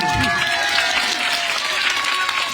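An audience at a kirtan program in a Narayan temple claps steadily, with dense, continuous applause and a voice talking over it throughout.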